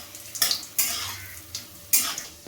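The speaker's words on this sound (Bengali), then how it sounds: "এবার আমি বড়িগুলোকে অল্প একটু ভেজে নেব" Lentil dumplings (bori) fry in hot oil in a wok, with bursts of sizzling and stirring scrapes of a utensil against the metal, coming in several separate loud surges close by.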